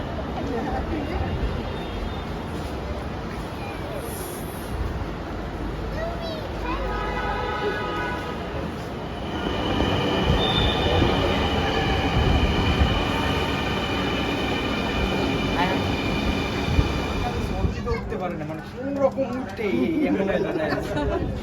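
A crowded metro rail carriage rumbles steadily along the line, with a broad rolling roar and faint whining tones, while many passengers chatter throughout and a brief announcement sounds near the end.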